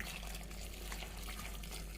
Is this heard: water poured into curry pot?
yes